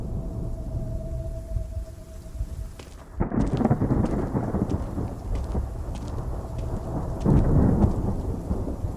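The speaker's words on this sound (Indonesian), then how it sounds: "Di luar akan turun hujan lebat." Heavy rain pours steadily outside at night while loud thunder cracks and rolls, with a sharp crash near the middle and another swell of rumbling toward the end, and no voices present.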